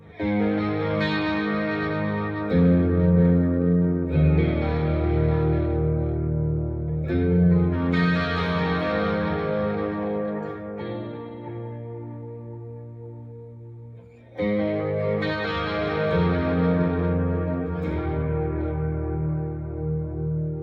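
Electric guitar through a chorus pedal on a pedalboard, with a shimmering, swirling effect, plays sustained chords and phrases, with a short drop in volume before the playing resumes.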